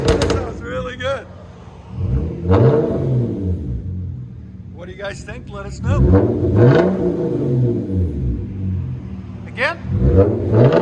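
A 2015 Hyundai Genesis Coupe with a 3.8L V6 and dual exhaust with a muffler delete, revved hard in several separate bursts that each build to a loud raspy roar, with people talking between the revs.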